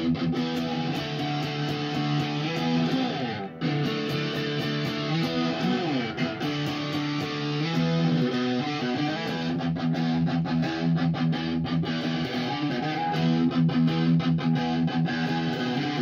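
A Marshall MG15CFX guitar amp on its overdrive setting with a little reverb added carries continuous distorted electric guitar chords and riffs, loud and alone, the notes ringing with a short, washy tail.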